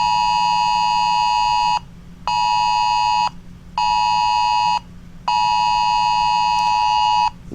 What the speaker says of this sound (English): What you're hearing is the emergency alert from my iPhone.